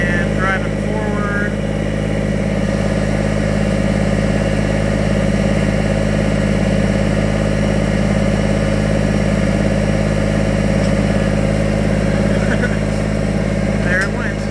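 A vehicle engine runs steadily while driving forward during wind tower assembly, a loud, constant low drone with no clear revving, and a voice talks over it.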